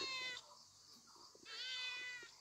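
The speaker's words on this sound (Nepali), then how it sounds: "माउ माउ मात्रै भन्छ।" A cat meows twice up close, each call long and drawn out with a short pause between.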